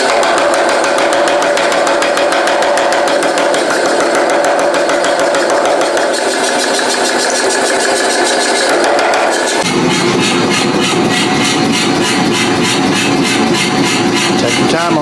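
An Anyang power hammer fitted with fullering dies forges a railroad spike. A loud motor drone runs throughout and turns into rapid, rhythmic pounding partway through, close and continuous.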